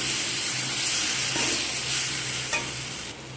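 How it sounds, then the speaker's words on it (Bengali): Green jackfruit with chilli and turmeric powder being stirred and sautéed in a pan, a steady close sizzle with scraping stir strokes and no voices. "সব কিছুকে মশলার সাথে ভালো করে একসাথে কষিয়ে নিচ্ছি।"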